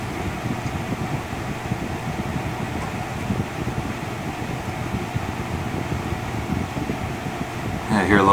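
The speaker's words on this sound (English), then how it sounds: "now you're going to hear the room blower turn on." Room blower on an Ashley Bayfront extended-hopper pellet stove runs as a steady, even whoosh of moving air throughout, nearby and moderately loud, with some wind buffeting on the microphone and a louder burst at the very end.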